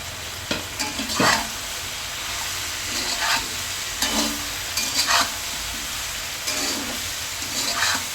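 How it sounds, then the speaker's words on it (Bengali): Vegetables such as potato, okra, long beans and cucumber fry in oil with ginger, garlic, green chilli and salt. A steady close sizzle runs throughout, broken by repeated rhythmic spatula scrapes and stirs across the pan. "আমি এখন সবজিটা তেলে ভেজে নিতেছি"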